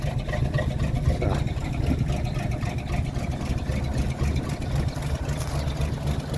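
A 1951 GMC Van Pelt fire engine runs steadily at idle, its low, rumbling engine note continuous and fairly close with no talking over it.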